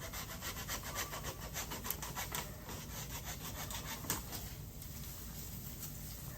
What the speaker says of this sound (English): So you can use a hacksaw. I'm gonna first make a cut about here.